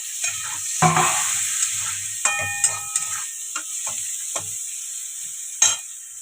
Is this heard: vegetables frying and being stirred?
yes